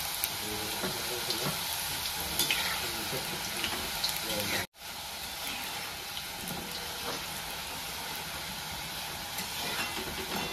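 Shankarpali pieces of maida dough deep-frying in hot oil: a continuous dense sizzle and bubbling, close and steady, with a brief dropout midway before the frying noise resumes unchanged.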